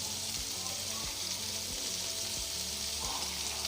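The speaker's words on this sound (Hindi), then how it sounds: "हर सब्ज़ी को अपने अलग-अलग इस तरह से फ्राई करना है" Vegetables frying in a pan for spicy chicken vegetable macaroni, a steady close sizzle with soft stirring scrapes and low rhythmic clatter underneath, no voices.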